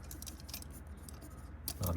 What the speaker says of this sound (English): We'll just demonstrate some downstrokes, upstrokes, right and left.